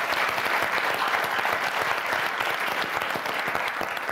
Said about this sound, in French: On vous applaudit très fort, Christine, Ivan.